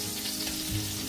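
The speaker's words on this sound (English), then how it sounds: "Let's finish up frying these creamy, crispy beauties" Mashed potato waffles fry in blazing hot oil, giving a steady, close sizzle with a soft bubbling crackle and no talking.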